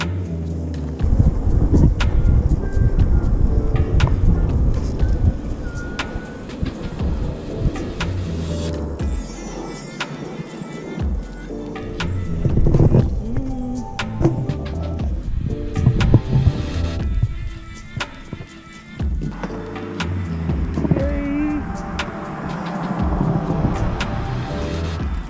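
A car driving through a park area in St. Cloud, Florida, heard from inside the cabin as a steady low rumble with shifting engine and road noise, moderately loud and continuous throughout.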